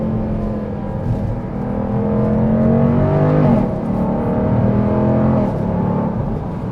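A 2024 Dodge Durango SRT 392 accelerating hard from inside the cabin, its engine note droning and climbing through a quick gear change, loud and continuous with no voices over it.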